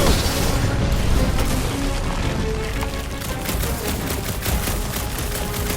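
Gunfire in Marvel's Guardians of the Galaxy game: sustained loud bursts of shooting and booming combat effects play throughout, dense and close, with no clear speech.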